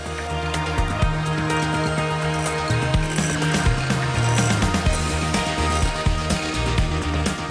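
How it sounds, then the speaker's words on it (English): Egg whites and sugar being beaten stiff with a hand beater, a continuous rattling, whirring mechanical clatter from the turning gears, steady and close throughout. "Egg whites and sugar beaten stiff."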